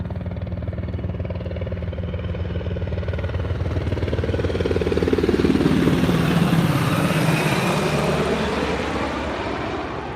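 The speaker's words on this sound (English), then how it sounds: "another helicopter. You want to see that coming in?" A helicopter approaches overhead, its engine and rotor roar building steadily to a peak around the middle and then easing slightly as it passes, loud and sustained with no talk.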